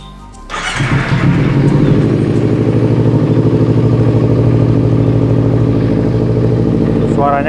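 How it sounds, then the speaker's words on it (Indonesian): A modified Kawasaki Ninja 250 Fi motorcycle engine starts and settles into a loud, deep, rumbling idle from its aftermarket exhaust, close by and steady throughout. "Sekarang kita waktunya untuk dengerin knalpot"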